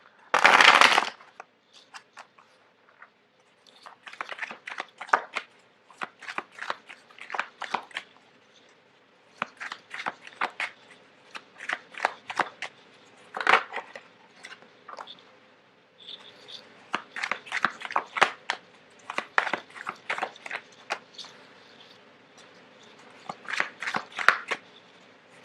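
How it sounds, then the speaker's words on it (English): Tarot cards are shuffled repeatedly on a tablecloth in quick, papery bursts of riffling, with a sharp rustle at the start. "it's really difficult to shuffle on top of this tablecloth."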